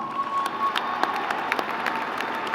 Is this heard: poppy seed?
no